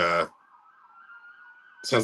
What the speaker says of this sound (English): That's what those sirens are, I think.